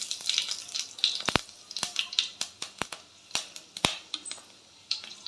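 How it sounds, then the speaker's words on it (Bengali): Dried red chillies and Bengali five-spice seeds spit and crackle in hot oil, a close run of sharp pops and snaps over a faint hiss. "তেল গরম হয়ে গেছে, শুকনো লঙ্কা দিয়ে দিলাম ফোড়ন, একটু পাঁচ ফোড়ন দিয়ে দিলাম"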